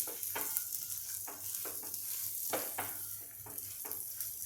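Grated raw banana and cucumber are stirred in a pan under a soft, steady sizzle, with repeated scraping strokes of a spoon against the pan; no voices.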